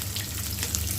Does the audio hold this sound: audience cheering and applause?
no